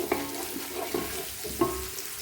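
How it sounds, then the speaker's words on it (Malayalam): Onions and curry leaves stirred in a pan for coconut chicken kabsa, with a quiet low sizzle punctuated by three or four soft spatula knocks against the pan. "നമ്മൾ വെട്ടി വെച്ചിട്ടുള്ള ഉള്ളി വേപ്പിൻ്റെ ഇല തുടങ്ങിയ സാധനങ്ങളാണ് ഇട്ട് നമുക്ക് നല്ല രീതിയിൽ ഒന്ന് ചെറുതായിട്ടൊന്ന് മിക്സ് ചെയ്തെടുക്കാം"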